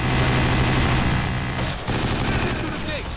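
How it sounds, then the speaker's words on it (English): Sustained gunfire from the video game 50 Cent: Blood on the Sand, a dense, loud barrage of rapid shots that runs almost without a break, with voices mixed into the game audio. "Stop shooting me!"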